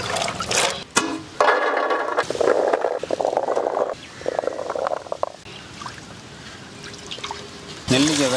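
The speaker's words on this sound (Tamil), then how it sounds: "இதை சுத்தமாக கழுவி எடுத்துடலாம்." Star gooseberries being rinsed and swished by hand in a vessel of water for village-style Tamil pickle, close-up splashing and sloshing in uneven bursts with trickling drips between.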